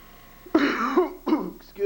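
A man clears his throat and coughs indoors, two short rough bursts close to the microphone, followed by a faint smaller cough.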